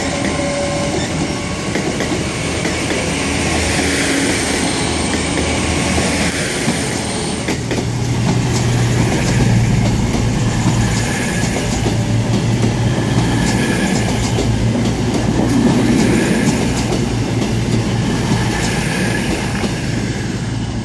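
Class 221 Voyager train arriving at Exeter St David's station, a steady rumble of the passenger train rolling in, with rail clatter and wheel noise building and holding loud throughout, no talk.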